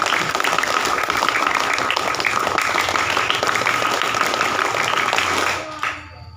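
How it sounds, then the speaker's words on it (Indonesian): Scout group clapping fills a room in two rounds of rhythmic, dense, fairly loud claps from many people, then cuts off sharply and falls quiet near the end. "2 kali tepuk pramuka."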